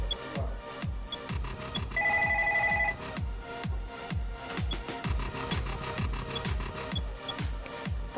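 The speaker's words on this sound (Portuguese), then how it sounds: "Atenção que eu vou ligar." A telephone rings briefly after a number is dialed during a prize-draw broadcast, a single short electronic tone burst over steady, rhythmic background music.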